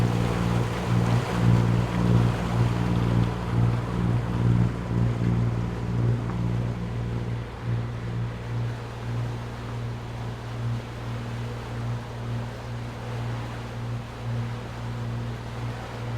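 A sailboat under continuous engine power pushes through waves toward a bay near Fethiye, the steady low motor drone and water rush running close and loud throughout with wind noise on top.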